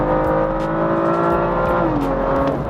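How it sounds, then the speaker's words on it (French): A BMW M2 coupé's six-cylinder engine roars loud and close, a rich sustained drone that holds steady and then shifts pitch as the revs change. "Ce bruit rauque là, le 6 cylindres, vraiment, il chante très très fort."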